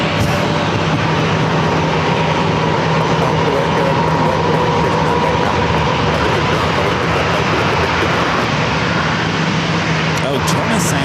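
An airliner on its takeoff roll from runway 27 at San Diego gives a loud, sustained engine roar with a steady low drone, filling the scene throughout with no break.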